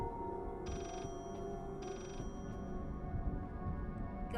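Within the game Layers of Fear, a phone rings in two short electronic bursts about a second apart, fairly faint over a low, dark ambient drone.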